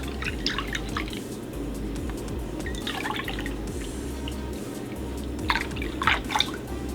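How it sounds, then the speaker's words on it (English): Soy milk poured into a bowl to make vegan buttermilk, giving soft intermittent dripping and splashing bursts over a low steady kitchen hum, loudest near the end. "I'm just going to add some plant milk. In this case, I'm doing soy milk."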